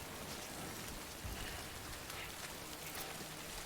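Steady rain in Death Stranding, a dense even hiss with faint pattering drops filling the whole stretch at a constant low level, with no talk over it.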